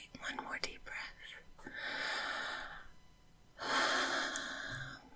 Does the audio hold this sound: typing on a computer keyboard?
no